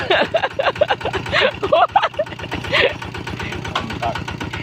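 A two-wheel walking tractor engine chugs in a fast, steady idle, close and loud, while people shout and laugh over it.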